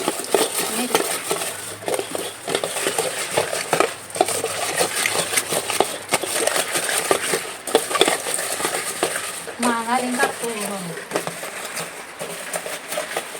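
Someone washes a cooking pan at a home kitchen stove. Close metallic scraping, clinking and rubbing sounds repeat irregularly throughout, and a faint tonal squeal rises briefly near the middle.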